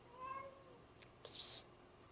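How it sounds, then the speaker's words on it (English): A house cat gives a single faint, drawn-out meow, followed by a brief breathy burst of noise in an otherwise quiet room. "Weird, dumb cat."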